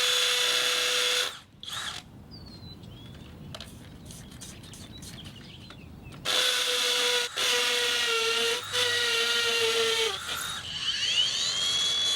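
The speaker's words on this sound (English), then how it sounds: "We're gonna use rotary hammer" A rotary hammer bores into rock on an off-road trail, loud harsh bursts of drilling that stop and restart, with a quieter gap in the middle and faint outdoor background.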